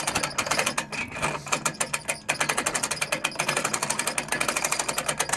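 Buyers Products hand trailer winch clicking steadily through its ratchet as the strap is cranked out, a fast, even run of sharp mechanical clicks that fills the whole stretch with no talking.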